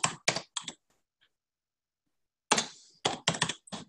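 Bursts of quick keyboard typing on a computer to write a message, a few rapid clicks, then a pause of silence, then another run of keystrokes, close and fairly clear with no talk.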